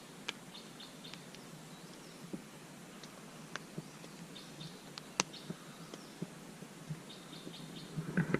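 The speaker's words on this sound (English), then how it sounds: "let you listen to the sound of the birds and everything" Birds sing and chirp faintly on a quiet, misty Dartmoor morning at a February hammock wild camp, with scattered sharp calls over soft ambient hiss and occasional closer ticks near the end.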